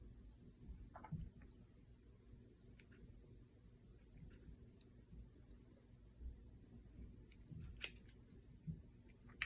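Scissors snip through felt to round off its corners, producing faint, sparse cuts against a quiet room.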